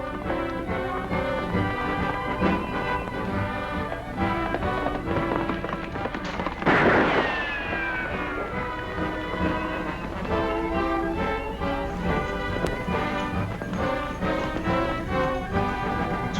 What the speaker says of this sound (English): Sweet shooting, Annie.